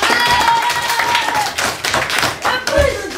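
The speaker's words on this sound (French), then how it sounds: "on applaudit les garçons, allez, on applaudit" An audience applauds two boys at a prize-giving event in London, with dense clapping running steadily throughout and voices mixed in underneath.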